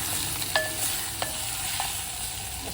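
Prawns are stirred and mixed in a pan, giving a steady sizzle with three distinct scraping strokes of the spatula against the metal.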